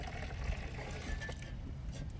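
Water poured onto plant soil from a container, a steady soft trickle and splash lasting the whole moment at close range with no talk.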